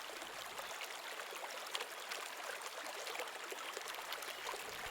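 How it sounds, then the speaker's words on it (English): River water flows steadily where the current begins to slow, a soft continuous rush with faint trickling and gurgles, quiet and close, with no voices. "The river starts to slow down here."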